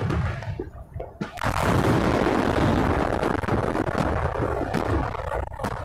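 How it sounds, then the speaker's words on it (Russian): A fireworks launcher detonates on the ground during an Independence Day salute. A loud, sustained roar of booming, crackling blasts erupts after a brief quieter lead-in and continues to the end. "На кадрах видно, как установка сдетонировала на земле."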